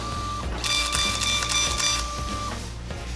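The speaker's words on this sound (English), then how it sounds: "During normal printing, it prints great." A Honeywell PX940 thermal transfer label printer runs a print job, its loud close mechanical whir with steady tonal hums and a rhythmic ticking feed, ending with a short pause in the motor.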